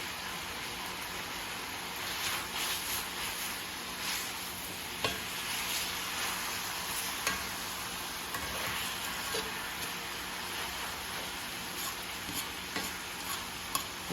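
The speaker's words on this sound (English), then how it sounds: "we're gonna let our chops get good and brown" Pork chops brown in a pan with a steady, faint sizzle and crackle, and occasional light ticks and clinks come through along the way.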